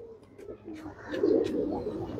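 A champion racing pigeon coos softly in a low, rolling murmur, quiet and close, with faint background noise and no voices.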